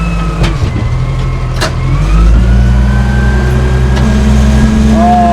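A payloader with four-wheel drive engaged idles and labors in wet snow, its engine hum loud and close, shifting pitch partway through with a few mechanical clunks and whines.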